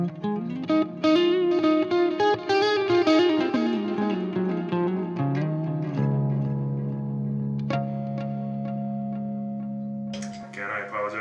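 Electric guitar on a clean channel with a touch of reverb, strummed chords and runs that settle into a long sustained ringing chord fading slowly, close and fairly loud, with no voices over it.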